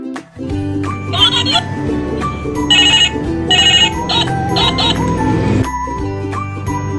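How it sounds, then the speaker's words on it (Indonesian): A phone ringtone plays a bright, tinkling melodic jingle in repeated bursts while placing a call, loud and close with a sustained musical backing and no talk. "Telepon Dek Shirley cocok nih"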